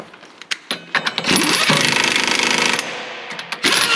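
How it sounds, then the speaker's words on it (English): Impact wrench driving new bolts during a winch install on a John Deere 700H dozer, loud close bursts of rattling hammering with short gaps and clanks between, one long run in the middle, no talking. "Okay, we'll get those tightened up."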